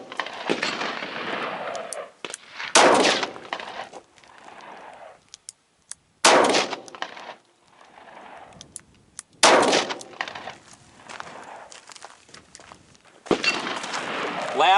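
Four close, sharp reports from a Smith & Wesson M&P Bodyguard .38 Special revolver firing Winchester Defender 130-grain +P rounds, spaced a few seconds apart, each loud crack followed by a brief ringing decay, with quiet stretches between.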